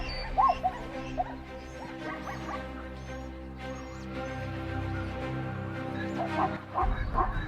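African wild dogs on the savanna give high yips, whimpers and twittering calls, several overlapping in bursts near the start and end over a low continuous rumble, with no speech.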